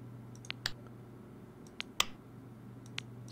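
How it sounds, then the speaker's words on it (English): Faint, sparse clicks sound inside the X-Plane 10 flight simulator cockpit of a Carenado CT206H Stationair, a handful of isolated ticks over a steady low hum, with no voices. "I've still got this weird clicking sound."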